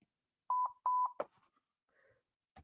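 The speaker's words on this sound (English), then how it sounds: "It's a monitor beep. Nothing to worry about." Two pairs of steady electronic tones from a broadcast monitor, loud and close, each beep clean and evenly spaced, followed by a brief clatter and faint distant chatter.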